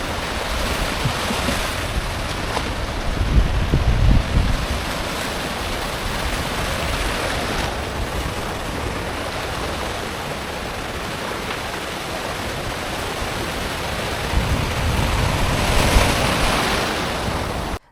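Sea waves break on a beach in a continuous loud wash of surf, swelling into heavier crashes every few seconds, with wind noise and no voices.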